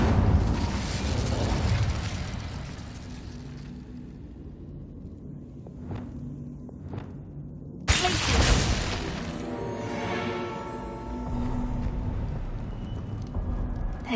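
A burst of fire from an Incendio spell in Hogwarts Legacy, erupting with a sudden loud whoosh and crackle after a quieter stretch with a couple of faint pops.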